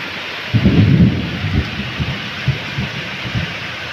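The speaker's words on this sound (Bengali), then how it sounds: "ভীষণ বৃষ্টি হচ্ছে।" Heavy rain hisses steadily while a deep roll of thunder booms near the start and then rumbles and fades in lower pulses.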